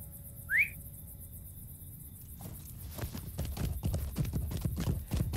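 Horse hooves clip-clopping on a road in a video game ride toward Isengard, a short whistle first, then a brief quiet before a steady, close rhythm of hoofbeats builds up and continues to the end.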